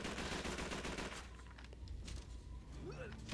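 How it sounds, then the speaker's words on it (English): MP40 submachine gun in Call of Duty 3 rattles off a rapid burst of automatic fire for about a second, then scattered battle noise and faint voices follow at lower level. "so I'm gonna keep firing my MP40."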